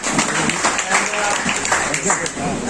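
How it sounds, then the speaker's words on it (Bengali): A crowd claps steadily throughout, a dense rattle of applause with voices mixed in. "আপনাদের সবার জন্য একটা করতালি দেন"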